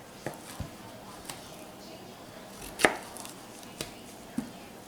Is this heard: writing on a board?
no